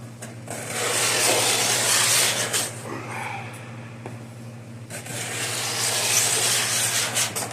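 A card scraper drags across a wooden workpiece in long, rasping strokes, loud and close, with a short pause midway before the scraping resumes, over a constant low electrical hum.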